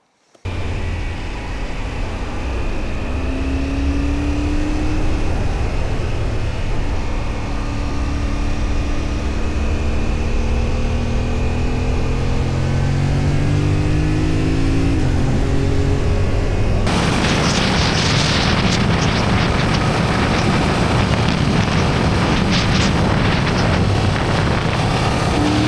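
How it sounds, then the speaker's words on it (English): A motorcycle engine drones steadily while riding, recorded on an Insta360 X5 camera, with a low rumble and buffeting wind noise throughout, turning harsher and brighter for the last stretch, with no voices. "sometimes I just want the sound of the engine or the ride itself, and I can actually get usable audio from this"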